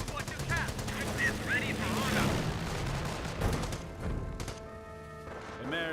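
Machine gun fire from a Company of Heroes battle, with dense bursts mixed among thuds and explosions, while game unit voices call out over the continuous din.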